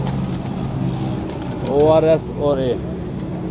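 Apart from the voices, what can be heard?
pigeons cooing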